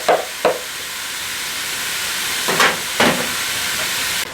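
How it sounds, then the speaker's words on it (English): Meat browns in a pan with diced onion and bell pepper, a steady loud sizzle and hiss broken by a few brief scraping stirs, with no talk. "While the meat's browning, we're going to add in 1 medium onion that we've diced and 1 diced bell pepper."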